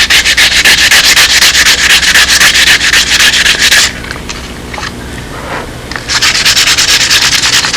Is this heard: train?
no